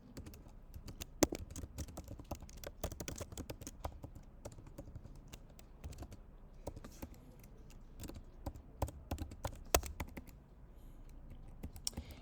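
Someone types code on a computer keyboard, producing a steady stream of soft, quick key clicks with occasional harder taps, close and quiet, with no talking.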